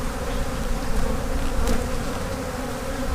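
Honeybees swarm around an open hive during the first backyard inspection of 2024, a loud, close, continuous buzzing drone with individual bees flying past the microphone, no talking.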